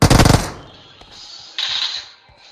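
A short, loud burst of rapid automatic gunfire from a gun in a video game, followed by quieter in-game effects and a brief mechanical whoosh.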